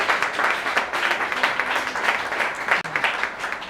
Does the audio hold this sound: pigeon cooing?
no